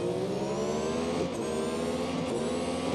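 Several F1 race car engines in Real Racing 3 drone together at the race start, a steady, close, loud whine with pitch slowly climbing and no voices over it.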